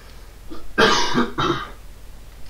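A man with a cough gives two rough bursts of coughing and throat clearing close by, loud and brief against a quiet room.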